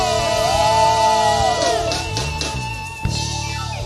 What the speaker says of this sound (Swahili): piga shangwe na vigelegele